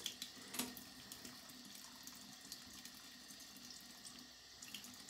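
Razor rinsed under a running tap at a sink, a steady quiet trickle and spray of water with a couple of brief splashes near the start.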